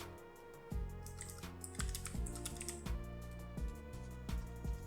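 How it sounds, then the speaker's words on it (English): Fingers type on a Mac keyboard in quick, uneven bursts of soft clicking keystrokes, heard up close over a steady background of music. "Now type the name of the drive."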